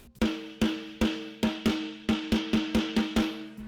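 A drum break from a song, in its original studio version, is played as a quick run of punchy snare and tom hits with a ringing tone. About a dozen strokes fall in an accelerating rhythm, close and alone.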